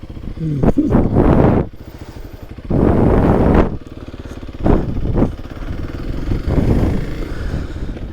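A KLS300sm motorcycle engine runs close by on a ride, with loud surging revs in bursts separated by quieter stretches of idle-like rumble.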